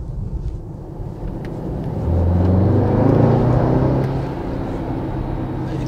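A 2019 Mercedes-AMG GT63 S 4-Door Coupe with 4MATIC+ in comfort mode gives a loud, deep engine and exhaust rumble that swells into a stronger drone midway before easing slightly, heard alone.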